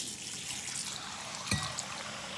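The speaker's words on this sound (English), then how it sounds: "I have to rinse it out. Always rinse your bowls out." A bowl rinsed under a running kitchen tap: a steady close hiss of flowing water throughout, with a brief splash or knock midway.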